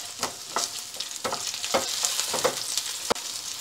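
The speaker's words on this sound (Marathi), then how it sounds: "लसूण आणि सुकं खोबरं छान भाजत होत आलं आहे" Garlic, ginger and dry coconut roast in a pan with a steady close sizzle, broken by irregular scraping stirs and a sharp knock near the end.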